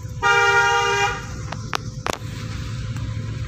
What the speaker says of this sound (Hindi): हॉर्न लग गया ना जबरदस्त